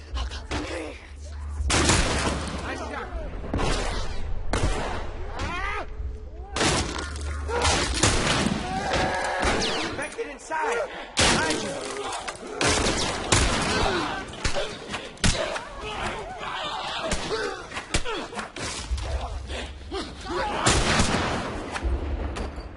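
Gunfire in The Last of Us Remastered during a snowy firefight: repeated sharp, loud shots and heavy thuds spread irregularly throughout, with voices calling out between and over the blasts.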